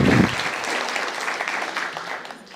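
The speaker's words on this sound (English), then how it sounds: "let's give a big round of applause for Etienne for putting on our graduation" Audience applause at a Guide Dogs for the Blind class graduation, a dense, steady wash of many hands clapping that holds for a few seconds and tapers slightly at the end.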